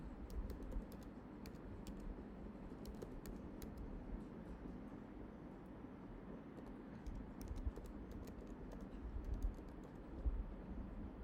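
An email address being typed on a computer keyboard: a quiet, continuous stream of soft key clicks with occasional sharper taps, close and alone without talk.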